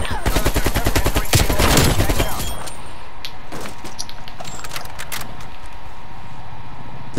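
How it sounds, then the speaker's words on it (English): A shooter video game lets loose with loud, dense automatic fire for about two seconds, then isolated sharp shots crack out sporadically against a quieter background. "Did someone else shoot me?"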